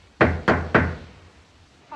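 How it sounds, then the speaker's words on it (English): Three sharp knocks on a door, evenly spaced about a quarter second apart, close and loud, then quiet with a faint voice starting at the end. "Let him knock again."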